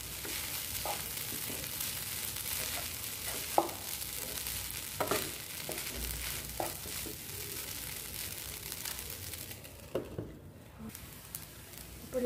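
Spices being stirred into tomato rice in a frying pan, a steady soft sizzle with scattered scraping and clinking spoon strokes against the pan, moderately quiet and continuous.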